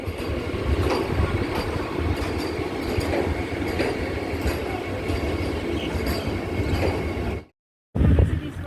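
A passenger train rumbles loudly and continuously up close, with wheel squeal and clattering rail noise, briefly cutting to silence near the end before the rumble returns.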